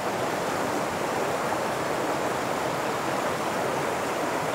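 Mountain stream swollen with flood water, a dense, constant rushing roar of fast-moving water, loud and steady throughout with no breaks or talking.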